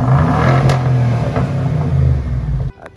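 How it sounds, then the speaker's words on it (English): A BMW F15 X5 with its muffler deleted gives a deep, steady exhaust drone close by, holding for a few seconds before cutting off abruptly. "I'll put some exhaust notes in here right now."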